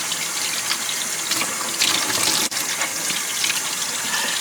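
Oxtail pieces rinsed under a running kitchen tap, water gushing steadily into a sink and splashing over the meat throughout, with one brief break in the flow.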